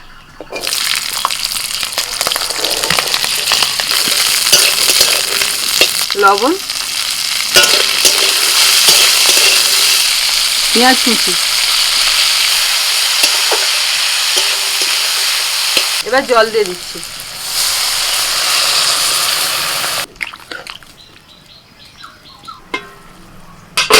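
Beans cooking in mustard oil in a wok for an Indian village recipe, giving a loud, steady close-up sizzle and frying hiss with a few scraping stirs, before the frying noise drops away near the end.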